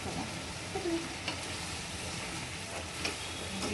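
Chicken pickle stirred in hot, sizzling oil gives a steady, close hiss of frying with soft scraping stirs throughout, and no one talking.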